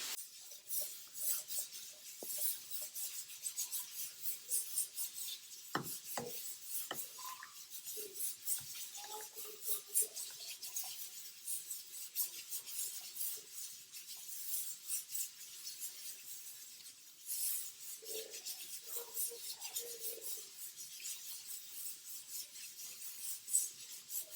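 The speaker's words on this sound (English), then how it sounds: "And I think then I'm gonna shell my eggs" Hard-boiled eggs cooked in a pressure cooker are cracked and their shells peeled off in a kitchen, giving faint, scattered crackles and soft rubbing scratches over a quiet background hiss.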